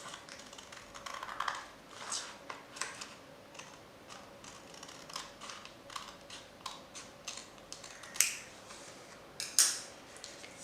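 Scissors cutting a sheet of orange craft paper along a folded line, a series of small quiet snips and paper crinkles at irregular intervals, close and without talk.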